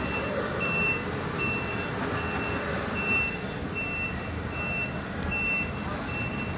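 Reversing beeps repeat at a steady rhythm from a truck maneuvering in Batangas, set against constant engine rumble and road noise, with a faint voice in the background.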